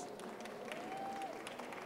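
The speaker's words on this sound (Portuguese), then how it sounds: "Por favor, palmas." Audience applause at a women's leadership conference session, a steady wash of clapping from a seated crowd filling the room, moderately loud and continuous throughout with no voice over it.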